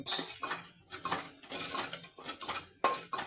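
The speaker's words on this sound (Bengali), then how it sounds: "জিরের পাউডার এক চামচ ধনের পাউডার এক চামচ নুন দিয়ে দিলাম ভালো করে কষিয়ে নেব" Mutton stir-fried in a pan with cumin powder, coriander powder and salt: a spatula scrapes and clatters against the metal again and again in uneven bursts, close and fairly loud, with no talking.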